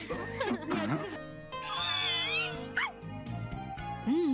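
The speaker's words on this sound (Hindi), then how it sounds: "शीरो ने इस बिल्ली को बचाया है" A cartoon cat meows several times in a rising, wavering voice, loud and near, mixed with background music and sound effects.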